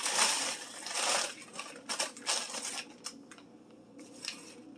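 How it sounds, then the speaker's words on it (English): Frozen bell pepper pieces tumble out of a bag onto a frying pan in a few bursts of bright rattling clatter, tapering into lighter scattered ticks, close by with no voices. "dump the bell peppers onto the pan"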